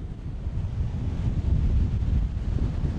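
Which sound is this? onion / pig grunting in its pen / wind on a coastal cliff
wind on a coastal cliff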